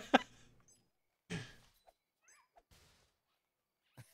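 A black cat gives a few short meows, separated by quiet gaps, fairly close and alone without talking.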